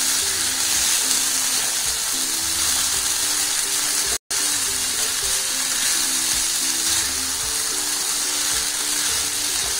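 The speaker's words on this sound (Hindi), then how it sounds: "और जब तक इसमें पानी थोड़ा भी नहीं बचना चाहिए तब तक हम इसको फ्राई करेंगे।" Vegetable pulao rice frying in a pan gives a continuous close sizzle with occasional stirring sounds, broken by a very brief silent gap near the middle, and no voices.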